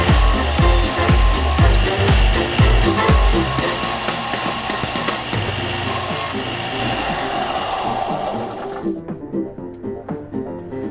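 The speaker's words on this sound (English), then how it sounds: "That was a little rough, so I think we're gonna clean it up on the sander." A rough, non-silver quarter being made into a coin ring is cleaned up on a sander, producing a loud, continuous grinding whir with pulsing contact at first that cuts off near the end.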